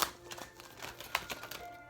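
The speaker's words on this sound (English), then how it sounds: "Sometimes these cards can be a little challenging to shuffle." Large glossy oracle cards being shuffled, a rapid run of light, crisp clicks and flicks, close but fairly quiet.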